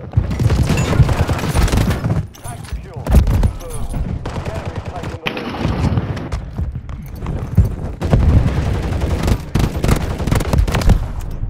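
Repeated bursts of automatic gunfire in a Call of Duty MWIII match, loud clustered volleys with brief pauses, near and close-miked, while players talk over the shooting.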